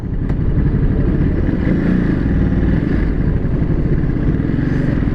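A 2022 Ducati Monster 950 naked bike ridden at speed, its engine droning steadily and loudly with a low, rumbling note throughout, no talking over it.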